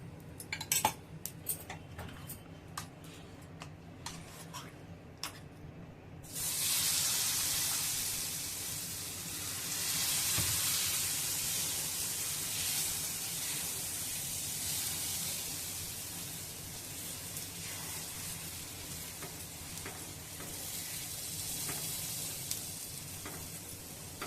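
Besan pola, a gram flour pancake, sizzles and fries in oil on a pan; utensils clink and scrape for the first few seconds, then a loud, steady hiss of frying batter holds to the end.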